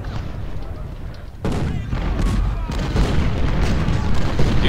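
Musket volleys and booming artillery fire from the Ultimate General: Civil War battle at Gaines' Mill, a loud, dense barrage of overlapping shots and blasts that thickens after a brief lull, with a voice talking over it.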